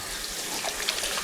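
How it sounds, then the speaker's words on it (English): Water runs steadily from a kitchen tap as hands are rinsed of raw ground beef, a close, continuous broadband rush with small splashing variations. "wash up our hands, get all this beef off of them"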